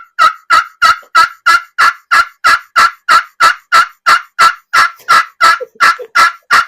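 A turkey call, used for hunting, imitates a gobbling tom in a loud, close, rapid series of about twenty evenly spaced, rattling gobble notes heard alone.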